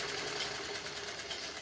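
A tailor's sewing machine running straight stitching, a loud continuous whirring drone that holds steady throughout, close up with no talk.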